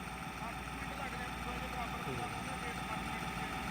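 A tractor engine running in a field during wheat sowing, a steady mid-pitched drone at an even level throughout with no talk.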